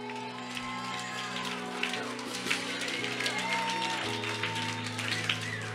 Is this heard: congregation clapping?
yes